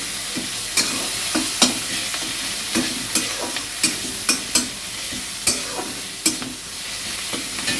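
Onion, garlic and ginger paste frying in a pan with a steady low sizzle, broken by repeated sharp clinks and scrapes of a spoon stirring against the metal.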